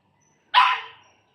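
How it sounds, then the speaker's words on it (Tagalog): A single sharp dog bark rings out once at close range, loud and brief against an otherwise silent background. "Tumatahol yung aso."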